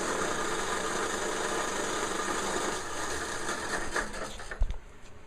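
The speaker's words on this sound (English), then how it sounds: "Let's crank that over without the spark plug connected, just to make sure we don't have a fire inside the carburetor." A cast iron lawn mower engine, spark plug disconnected, cranks over in a fast, steady whirring churn that runs for several seconds, then stutters with a few knocks and a brief thump before dying away.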